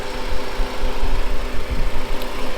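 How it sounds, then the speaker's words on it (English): A 2004 Honda Accord LX engine with 221k miles idles steadily up close, a low even rumble with a slight rhythmic vibration and no other sounds. "The engine seems to run pretty good."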